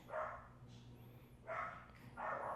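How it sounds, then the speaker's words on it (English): Several dogs bark indoors, three bursts of barking spaced about a second apart, moderately loud against a quiet household background. "tries to stop them from barking"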